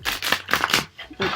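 Quick bursts of riffling and flicking as a deck of cards is shuffled in several short passes, close and crisp.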